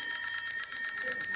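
Bell rung as a quiz show buzzer, a sustained bright metallic ringing that stays loud and steady throughout, with quick repeated pulsing in its tone.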